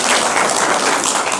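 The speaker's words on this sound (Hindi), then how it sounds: "ताली बजाओ।" A hall audience at a Diwali celebration at a newly built spiritual centre in Panipat breaks into dense, continuous clapping, loud and close throughout the short burst.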